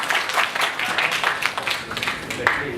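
Conference audience applauding in a lecture hall, a dense, steady wash of many hands clapping together for nearly three seconds at moderate level, with no voices on top.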